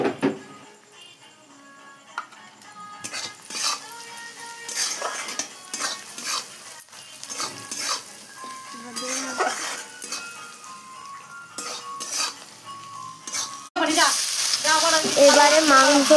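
Onions frying with green chili and salt are stirred in a pan with scattered spoon scrapes and metal clinks, then a louder, steady sizzle swells up toward the end.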